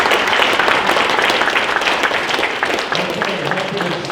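Audience applause at a League of Women Voters of Tulare County candidate forum for District 33, dense steady clapping filling the room throughout with a faint voice underneath near the end.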